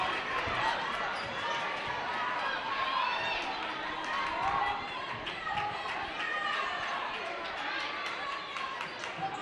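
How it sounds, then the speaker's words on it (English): Dense, steady crowd noise fills a high school girls basketball championship game in the Twin Cities, with cheering voices and chatter throughout, sneakers squeaking and a ball bouncing beneath the roar. "The crowd is certainly noisy."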